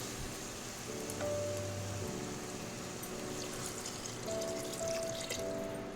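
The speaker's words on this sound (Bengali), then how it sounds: "এবারে আমি জল দিয়ে দেবো।" Water pours into a pressure cooker holding marinated raw jackfruit and mashed tomatoes, a soft, steady trickle against a low, constant background hum.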